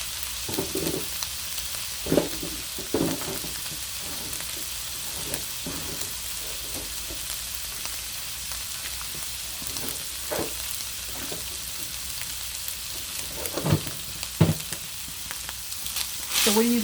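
Ground beef fries in a pan for tacos, cooked in an RV while camping, giving a steady close sizzle with occasional pops and stirring scrapes and no talking.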